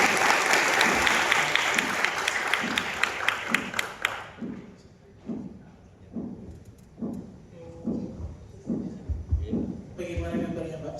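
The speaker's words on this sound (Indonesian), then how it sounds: "Tepuk tangan dulu." Dense audience applause at a campus talk show for Malang mayoral candidates fills the first four seconds, then gives way to someone speaking over a quiet room.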